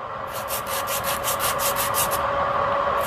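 Metal nail file of 100 and 80 grit rubbing across nails in quick, even back-and-forth strokes, a close rhythmic scratchy rasp of about a dozen passes over the steady hum of a dust collector.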